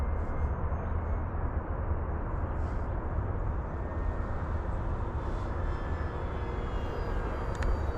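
A steady engine drone holds for the whole stretch from an FMS PC-21 Pilatus RC model plane in flight, a continuous airborne whine and rumble at an even level with no voices.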